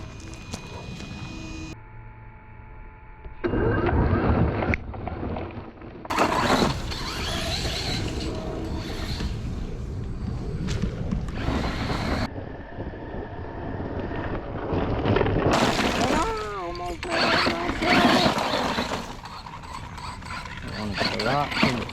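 Hosim X07W 1/10 brushless RC truck driving over rocks on a tennis court, with bursts of whining motor and clattering, scraping wheels and chassis, interspersed with quieter pauses and a person talking.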